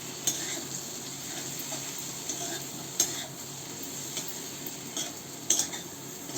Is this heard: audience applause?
no